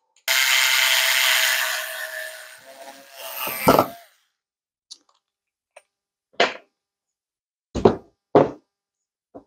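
A 12-year-old Skil cordless screwdriver whirs steadily as it drives a screw, the motor note rising near the end before it stops; a few sharp knocks and clicks follow.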